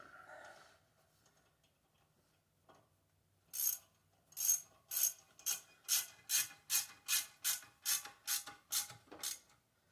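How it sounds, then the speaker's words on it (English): A ratchet turns a T30 bit to tighten brake bolts on a 2016-2022 Chevrolet Camaro. After a near-silent start, about a dozen crisp, evenly spaced clicking bursts follow close up. "Get our T30, tighten it up."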